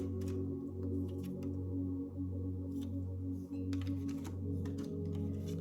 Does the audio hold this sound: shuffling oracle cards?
yes